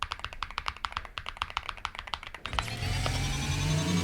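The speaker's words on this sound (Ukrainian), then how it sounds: "А зараз я трішки поклацаю клавіатуру" Rapid, steady clicking of keys on a computer keyboard, close up, as picked up by a HATOR Hypergang 3 headset microphone, which gives way to a louder rushing noise near the end.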